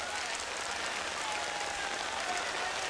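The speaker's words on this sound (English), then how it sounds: "It's starting to rain pretty hard now" Heavy rain falls at a trials motorcycle competition in Les Rousses, France, a dense, even hiss of drops hitting surfaces with a faint tone drifting through and no voices.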